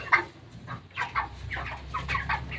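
A chicken on a poultry farm clucks repeatedly while being weighed, giving short close bursts of clucks in an uneven rhythm, with no talk over them.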